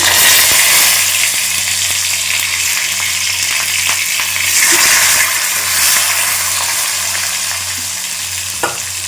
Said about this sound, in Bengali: টমেটোটা একটু ভাজা ভাজা করছি